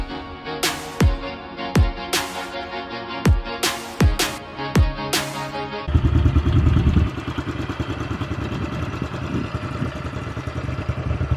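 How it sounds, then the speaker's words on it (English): Pit bike engine in the Arizona desert, several sharp revving bursts close by followed by a steady, rough mid-pitched engine drone as the bike rides. "My second time on a pit bike."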